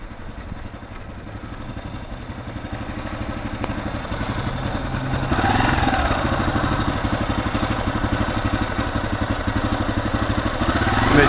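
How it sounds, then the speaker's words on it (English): A Ducati Multistrada motorcycle rumbles past on a commuter ride-to-work day, a steady low engine drone that swells louder halfway through as it nears, continuous and alone without voices. "I believe that was a Ducati of some sort"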